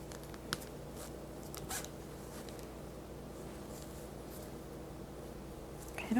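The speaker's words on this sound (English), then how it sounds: "I'm just going to unzip this here." A zipper is slowly drawn open at close range in a quiet room, a soft continuous rasp with a few sharper clicks, ending in a brief louder pull.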